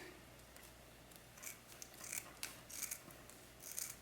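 Scissors snipping away excess deco mesh on a spring-summer bubble wreath: a few soft, crisp cuts and rustles, close but faint, with no talking.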